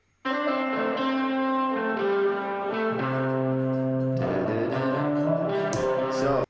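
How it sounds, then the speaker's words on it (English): A sustained, harmonically rich distorted electric guitar solo plays alone, changing notes every second or so, steady and loud with a thick, buzzy edge throughout. "So I'll just isolate the guitar on its own here."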